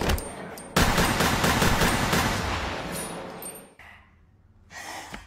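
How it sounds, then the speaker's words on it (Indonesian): A dense, rapid burst of pistol gunfire in the film Bad City (2023) crackles for several seconds, then cuts off, with a short harsh burst returning near the end. "Torada berhasil merebut pistol Songgi dan menghabisinya."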